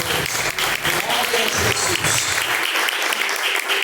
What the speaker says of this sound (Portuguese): As palmas, louva.